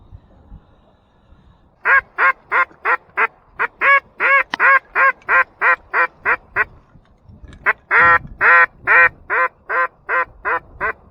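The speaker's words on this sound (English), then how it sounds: "I just had a pair of mallards drop right on in, no calling." Mallard ducks on the water give loud, close quacking in two rapid, evenly paced series of about a dozen calls each, separated by a short pause, at a duck hunt in Michigan.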